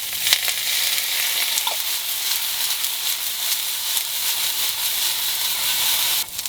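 Nacho toppings seasoned with pepper, salt and jalapeño juice sizzle in a hot pan, giving a loud, steady broadband hiss throughout with a few faint clinks as they are tossed.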